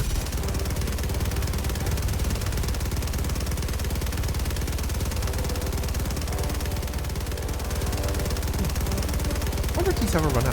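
Continuous dense machine gun fire in Helldivers 2, a rapid unbroken stream of loud shots lasting the whole stretch, with faint voices and engine noise buried underneath.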